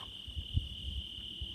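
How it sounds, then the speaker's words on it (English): Faint crickets chirp steadily at sunset in Oregon, a soft high continuous trill far off with low wind rumble underneath. "Can you hear the wind rustling through the bushes and the crickets?"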